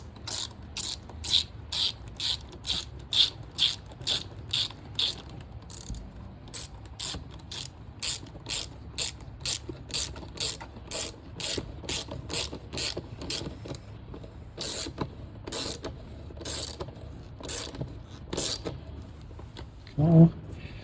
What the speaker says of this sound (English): Now we'll tighten the clamps for the hose.